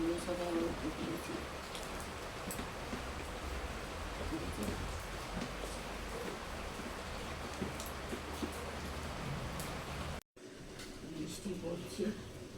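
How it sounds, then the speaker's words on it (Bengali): Steady rain falls on a cool morning, a dense, even hiss with scattered drop ticks that runs without a break until a brief cut, then carries on. Occasional voices come in over the rain. "বৃষ্টি পড়ছে, একদম"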